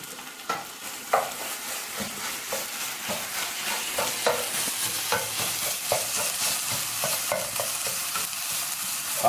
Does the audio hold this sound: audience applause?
no